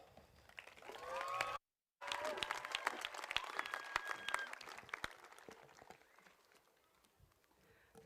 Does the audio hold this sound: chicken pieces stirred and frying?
no